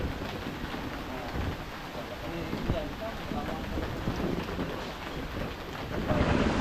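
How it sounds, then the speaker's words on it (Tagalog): Steady rain hisses across the whole stretch, a dense wash of noise with occasional gusts, heard close and continuous. "Ulan."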